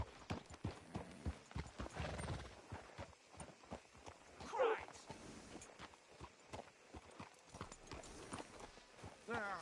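Hooves clip-clop steadily at a walking pace, close by, while someone talks over them; a horse in the video game Red Dead Redemption 2.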